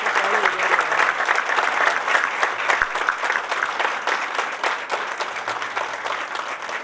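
Audience applause thanking guests at the GuruDev Janma Diwas celebration at Geeta Dham, Jodhpur: a sustained, even burst of many hands clapping that continues throughout.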